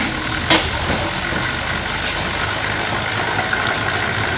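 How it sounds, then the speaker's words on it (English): Steady mechanical hum of a Marksman smart pump running as it begins filling a barrel, loud and continuous with a faint click near the start. "if we say start the pump now, it will start filling up the tub"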